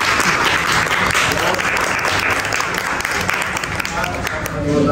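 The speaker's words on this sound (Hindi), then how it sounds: "तब अपने लिए तालियां बजाओ भाई" A room of students applauding for themselves, dense sustained clapping at close range filling the whole stretch, with some voices mixed in.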